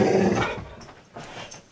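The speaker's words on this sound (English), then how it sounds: "my dog is literally attacking me right now because she's H-U-N-G-R-Y." A hungry dog growls loudly and close in a short rumbling burst, then trails off into quieter grumbles and small whines.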